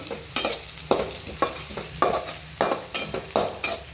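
Dried curry leaves are sautéed in a pan with a spatula, producing about eight regular dry scraping strokes over a low, steady sizzle, close and clear.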